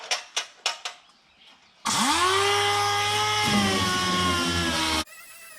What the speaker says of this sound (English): the good old air orbital sander didn't quite do the job